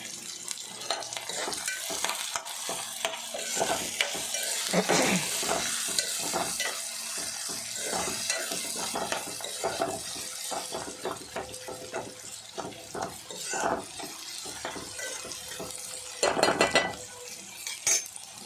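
Broad bean pods (chikkudu kaya) frying in a pan sizzle steadily with cumin added, with spoon stirring and scraping against the pan throughout, plus occasional clinks of utensils.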